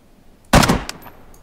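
A single sharp gunshot rings out in the video game DayZ, loud and close, followed by a short decaying echo.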